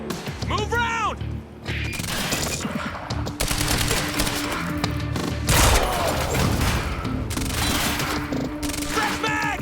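Heavy overlapping gunfire in the action game Quantum Break, a dense fusillade of automatic bursts and impacts with whooshing effects, while voices shout over the shooting.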